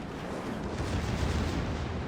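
Secondary guns on a Richelieu-class battleship fire in a naval warship video game, producing a continuous loud rumbling boom-and-blast wash that fills the stretch.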